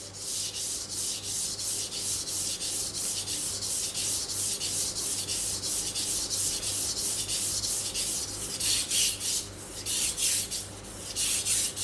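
Steady, continuous rasping scrape of a knife worked back and forth across a wet Japanese water stone, close and even, with brighter strokes near the end.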